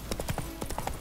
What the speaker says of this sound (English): Roach, I swear to god, this horse